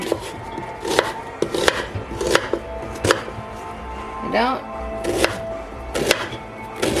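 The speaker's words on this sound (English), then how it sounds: "So I'm chopping it in smaller pieces" Onion being chopped into small pieces with a knife on a cutting board, roughly a dozen distinct close knocks at an uneven rhythm, with faint video game sounds playing in the background.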